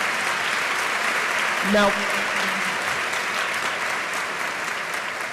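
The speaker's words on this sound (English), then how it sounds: "Could we have a round of applause for our many co-sponsors?" A lecture audience at a university evening event applauds its co-sponsors, a steady crowd clapping that fills the clip, with someone briefly speaking into a microphone over it.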